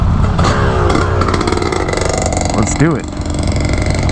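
Ducati Scrambler motorcycle engine on a race track, loud and continuous with rising revs and a sharp pitch sweep near the end, while a voice talks over it.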